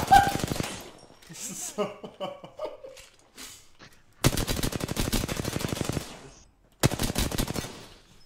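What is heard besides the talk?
gunfire in the video game Apex Legends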